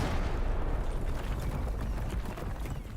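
Artillery barrage in a grand strategy game set in Europe, heard as a continuous, dense rumble of low booms and noisy crackle that holds steady for about three seconds with no talking.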